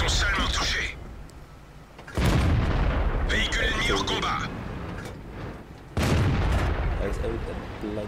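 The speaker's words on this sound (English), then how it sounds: "I was able to blind fire the Leopard I" Tank cannon shots in World of Tanks, three heavy booming blasts spaced a few seconds apart, each followed by rumbling decay and mechanical clanks, with someone talking in between.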